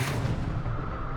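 Supernova explosion sound effect: a deep, rumbling boom with a sharp onset that rolls on as a dense low roar across the whole moment.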